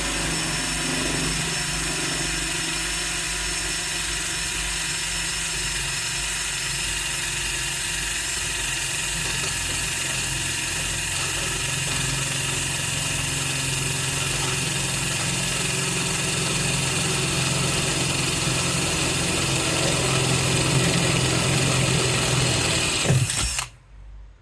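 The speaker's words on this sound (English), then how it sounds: "And then we drill through." A cobalt drill bit bores steadily through metal held in a small vise, a continuous close whine with motor drone that holds for over twenty seconds before cutting off abruptly at the end.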